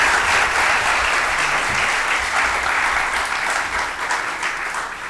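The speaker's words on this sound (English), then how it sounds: "please join me in giving my speakers a big round of applause" Loud, continuous applause from a conference audience for the speakers, a dense, even roar of clapping hands that holds steady and eases slightly toward the end.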